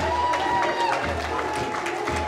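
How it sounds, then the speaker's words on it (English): Party delegates at a political convention applaud a newly endorsed presidential candidate, a loud crowd clapping and cheering with voices mixed in throughout the brief burst. "Give him a round of applause."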